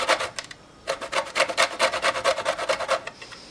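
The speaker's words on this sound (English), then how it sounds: "So I'm just going to zest this lemon up." A lemon is rubbed against a zester in quick, rhythmic rasping strokes, a short run, a pause, then a steady series of about a dozen close, crisp scrapes with no talking.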